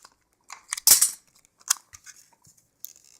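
Close scissors snip through a piece of tape, several short crisp cuts, one louder than the rest, spaced irregularly with quiet gaps between them.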